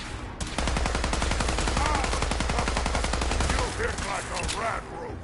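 Sustained full-auto gunfire from a rifle in the video game Fallout 4, a dense rapid burst of shots lasting several seconds, loud and close, tapering near the end with a brief voice underneath.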